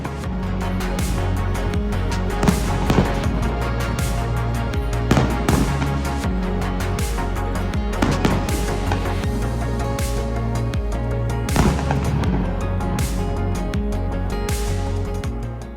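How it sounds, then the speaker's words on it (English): Repeated booming bursts ring out every few seconds over a steady bed of loud music, like a fireworks display heard from nearby, set off on a river in front of a hotel in Bangkok, Thailand. "fireworks started directly in front of the hotel"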